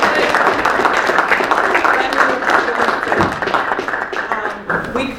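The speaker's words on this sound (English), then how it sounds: "I just would like for everyone just to give them a big round of applause." A press conference audience gives members of the No Fear Coalition a loud, sustained round of applause, dense clapping close by with voices and cheers mixed in.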